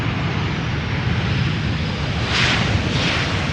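A fixed-wing airplane at Schiphol's Polderbaan runway in warm weather gives a loud, steady engine roar that swells slightly toward the end, with no voices.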